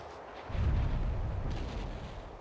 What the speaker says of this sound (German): Das sind Kanonen, ne?